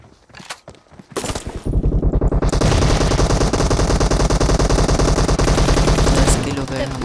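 Sustained automatic gunfire in the battle game PUBG: a few scattered shots at first, then continuous rapid, loud bursts that run close and dense for several seconds before easing slightly.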